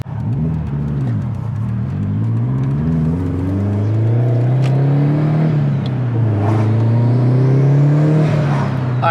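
A 457 WHP stock-block Subaru STI pulls out onto the street, its engine droning and rising and falling in pitch as it accelerates and shifts, loud and close throughout.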